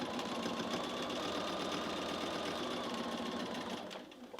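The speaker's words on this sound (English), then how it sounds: "And then I'm just going to start sewing, removing those clips as I go along." Sewing machine stitching binding around the edge of a quilt, a continuous fast mechanical whir with a rapid needle beat running close and steady, easing off slightly near the end, with no talk.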